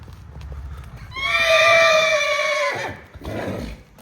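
A Marwari mare lets out a loud, close, drawn-out neigh lasting over a second, with soft hoof sounds and background noise before it and some shuffling afterward.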